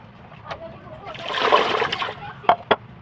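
Raw fish being squeezed and washed in a bowl of water for kinilaw: a few quick splashes, a longer sloshing stretch in the middle, then two sharp closing splashes, close and fairly quiet.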